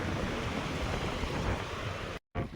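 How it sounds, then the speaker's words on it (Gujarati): Wind and waves at sea from aboard a fishing boat, a continuous loud roar of rushing wind and surf with buffeting on the microphone, cutting out briefly near the end before returning. "હવે પવન નીકળી આવ્યો ફૂલ મોજો થઈ ગયો છે"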